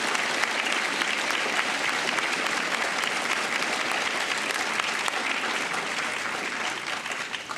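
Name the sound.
applause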